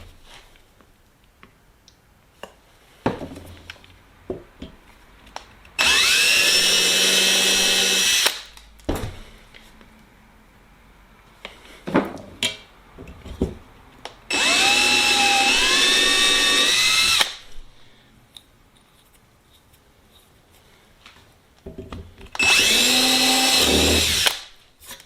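Power drill boring a hole through an aluminum aircraft aileron counterweight part with cutting oil, heard in three loud sustained whining bursts of a few seconds each, separated by quieter handling clatter.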